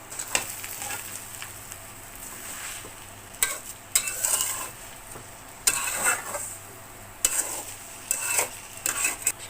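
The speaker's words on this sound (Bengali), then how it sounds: "এখন আমি সুন্দর করে নেড়ে চেড়ে এই চিনিটা একদম আচার আমের সঙ্গে শুকিয়ে নিব" Mango pickle with sugar stirred in a pan until it dries, steady frying sizzle under repeated scraping strokes of a spoon against the metal, close up with no talking.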